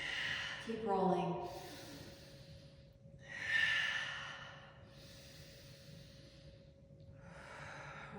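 Slow, breathy exhales during a yoga session's neck and shoulder rolls, soft and close, with a low steady hum underneath and an instructor talking between breaths.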